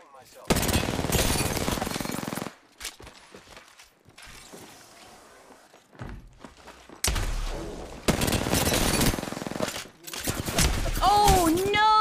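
Loud bursts of rapid automatic gunfire in a video game break into several long volleys, separated by quieter gaps with scattered smaller sounds.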